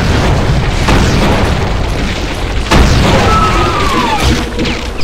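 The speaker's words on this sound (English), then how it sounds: "You're having way too much fun with that rocket launcher." Heavy booming rocket launcher explosions from the first-person shooter Doom with the Brutal mod, loud and dense, with a couple of sharp blasts standing out over continuous game noise.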